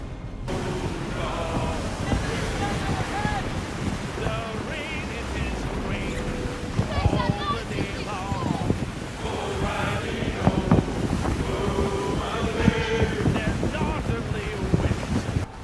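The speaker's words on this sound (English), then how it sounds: "the sea crashes convincingly" Sea waves surge and crash continuously under gusting wind in the video game Skull & Bones, with voices heard faintly through the roar of the water.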